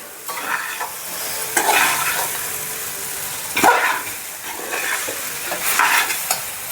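Chicken being stir-fried in a pan for fried noodles: a steady close sizzle with repeated scraping stirs of the spatula at irregular intervals, with no talking.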